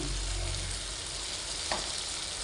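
Fish curry is turned over in a frying pan, a continuous loud close sizzle of oil with a short scrape of the flip partway through.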